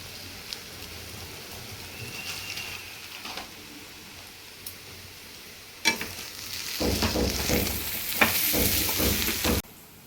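Onions with chilli powder and garam masala fry in a pan, a quiet sizzle at first, then a louder stretch of stirring, scraping and crackling frying for several seconds before stopping abruptly, no voices.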